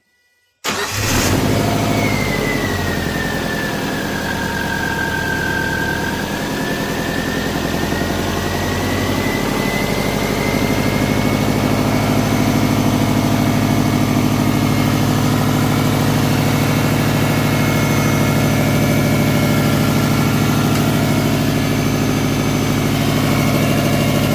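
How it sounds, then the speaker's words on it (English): A Subaru 2.5L engine cranks and catches after a brief silence, then settles into a loud, steady idle that drones on for the rest of the clip. "Let's go start the engine."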